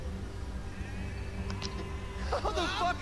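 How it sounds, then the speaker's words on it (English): A sheep bleats in the puzzle video game Catherine, a wavering call arriving late over a steady background of game music and ambience. "there's a sheep in the background"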